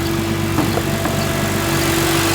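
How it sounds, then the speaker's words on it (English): A Nissan 240SX S13 engine with a partial misfire idles in a steady, loud, droning rumble with faint irregular ticks, and no voices over it. "now my S13 is having a partial miss"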